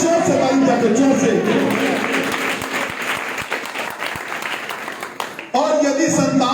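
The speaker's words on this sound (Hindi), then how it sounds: "जोर से ताली बजाकर, जोर से।" A church congregation clapping loudly together in a dense, sustained roar of applause that thins briefly near the end before resuming, with a voice speaking over it at the start and end.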